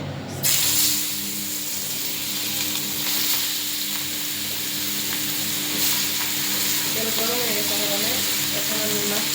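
Vegetables hit hot oil for a potato and chicken fry, setting off a loud, dense sizzle that hisses steadily throughout, with occasional stirring scrapes and faint background noise near the end.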